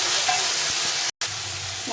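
Spice paste for a Bengali fish jhal sizzles in hot oil as water is added, a loud, steady broadband hiss filling the kitchen with a brief dropout partway through, no talking over it.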